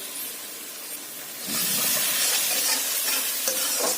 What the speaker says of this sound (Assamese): এতিয়া সুন্দৰভাৱে লৰাই দিম